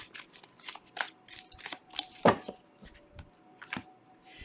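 Mystic Moon oracle cards being shuffled by hand, a run of quick papery riffles and soft slaps in close, uneven bursts with a brief louder snap midway.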